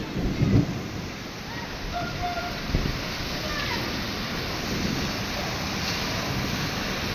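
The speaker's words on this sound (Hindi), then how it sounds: "ये कुछ तूफानी बारिश है।" Heavy stormy rain pours steadily in Madina, a dense continuous hiss, while low thunder rumbles and a few heavier gusts surge early on.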